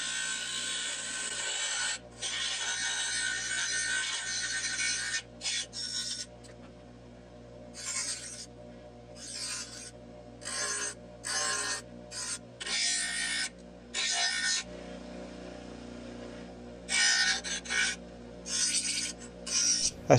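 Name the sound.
grinding high carbon steel strips into a knife shape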